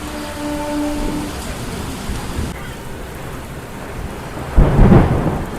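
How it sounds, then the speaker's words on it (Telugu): Heavy rain pours steadily during a MEMU train journey from Vijayawada to Visakhapatnam, with a low thunder rumble early on and a louder burst of thunder near the end. "వర్షం అయితే మొత్తం దుమ్ము లేపుతుంది."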